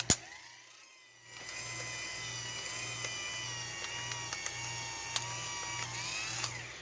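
A power antenna on a 1975-76 Cadillac Eldorado retracts with a steady motorized whine and a pulsing drive, punctuated by several small ratcheting clicks. The sound is close and continuous for several seconds after a sharp click at the start.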